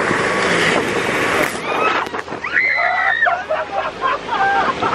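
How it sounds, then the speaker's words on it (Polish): A jet ski runs alongside a 350 HP motorboat on the water near Warsaw, giving a loud, continuous roar of engine and rushing spray, with brief whistling tones toward the end. "O, jest skuter z nami."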